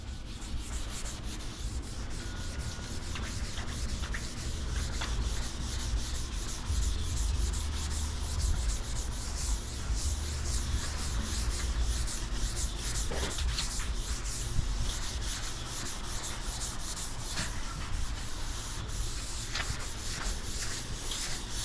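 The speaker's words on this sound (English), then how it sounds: "This is the guide coat that I use." Steady rubbing and sanding strokes on a hail-damaged car panel as guide coat is worked over the top, a continuous close scratchy scrub with no talk.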